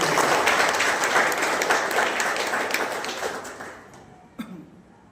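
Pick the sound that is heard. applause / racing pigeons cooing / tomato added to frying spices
applause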